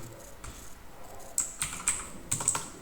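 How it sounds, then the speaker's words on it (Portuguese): Keys clack on a computer keyboard while a database connection name is typed into a SQL Server setup, with scattered close taps followed by two quick clusters of crisp keystrokes. "Então vou digitar aqui o Wayland ODBC."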